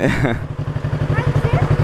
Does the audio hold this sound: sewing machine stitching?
no